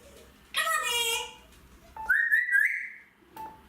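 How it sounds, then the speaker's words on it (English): A parrot whistles and squawks loudly at close range, with two bursts of shrill, warbling, tonal calls and a shorter chirp between them, sounding over a quiet indoor background. "that's the parrot going crazy"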